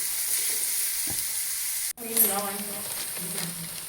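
Onions sautéing in a pan as the base for an ayirai fish curry make a continuous close sizzle. The sound cuts out briefly, then returns with a voice faintly audible beneath the hiss.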